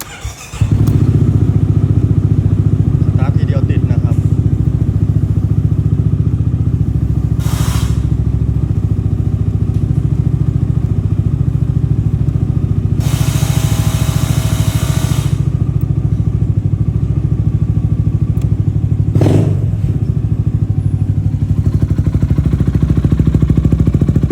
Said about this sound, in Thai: เดี๋ยวมาสตาร์ทให้ฟังเสียงท่อนะครับ